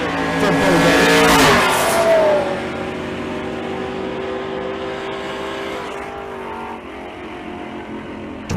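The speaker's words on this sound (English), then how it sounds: "Spinning the tires there in the left lane from Bo Denny." A drag racing car spins its tires in the left lane, a loud roaring engine with a high screeching surge early on that settles into a steady, sustained drone close by.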